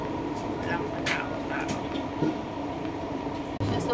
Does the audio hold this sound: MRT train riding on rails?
yes